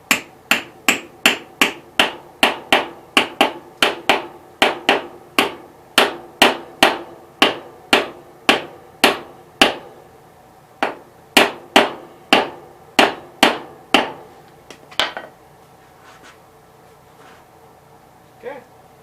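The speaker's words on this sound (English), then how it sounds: "I actually do have a hammer." Repeated hammer blows ring out on a metal front wheel hub while an old bearing is refitted on an 810 machine, about two dozen sharp, evenly paced strikes, close and loud, stopping near the end.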